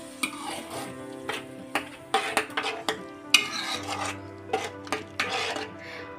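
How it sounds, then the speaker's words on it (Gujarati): Curd batter and spice paste are stirred into sautéed capsicum in a pan for a gravy curry, a series of close scraping and rasping spoon strokes over a soft sizzle, without talk. "હવે તેની અંદર આપણે જે દહીંનું બેટર બનાવેલું હતું એ કરી દઈશું આ રીતે સાથે આપણે આ પેસ્ટને પણ મિક્સ કરી દઈશું"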